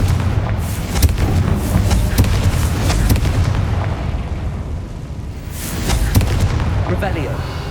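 A Confringo blast spell fired in the Hogwarts Legacy video game gives a loud, sustained rumbling explosion with crackling bursts that swell again near the end, filling the whole stretch.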